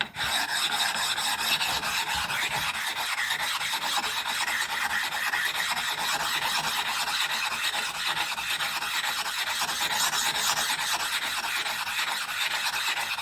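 A chisel sharpening stone being smoothed with steady back-and-forth rasping strokes, loud and close, a continuous gritty rubbing with no pauses and no talk.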